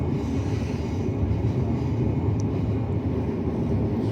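A commuter train on the Sunshine Coast line between Nambour and Gympie North rumbles steadily, a dense continuous roar of wheels and carriage noise heard from on board, with no talking.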